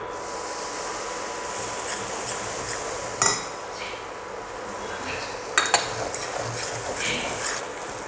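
Grated coconut and cardamom roasting in a pan for a Chettinad ukkara sweet: a soft, continuous scraping and stirring with two sharp clanks of a utensil against the pan.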